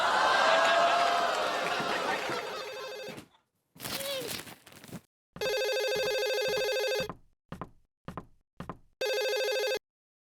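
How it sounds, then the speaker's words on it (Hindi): A telephone rings downstairs in a house, several bursts of electronic bell ringing separated by gaps, preceded by someone talking and a few knocks and short noises in between. "घंटी बज रही है नीचे, फोन की घंटी।"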